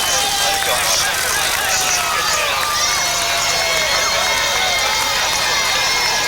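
Dense, loud roadside crowd roars and shouts continuously as Tour de France riders pass on the Bastille Day stage from Strasbourg to Colmar, with whistles and cheering layered throughout.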